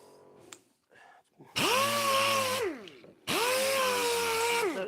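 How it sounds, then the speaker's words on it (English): A power tool sands a wooden pallet in two loud sustained bursts, the motor whining up and holding steady, preceded by brief quiet handling noises. "Let's do a bit of sanding, shall we?"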